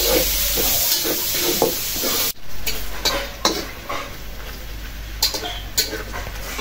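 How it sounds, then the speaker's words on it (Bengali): Onions frying in hot oil in a cooking pan: a steady, close sizzle with repeated stirring scrapes and clicks running throughout, and no talking. "এই তেলে দিয়ে দিলাম পেঁয়াজ"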